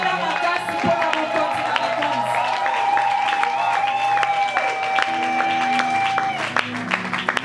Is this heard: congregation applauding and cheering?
yes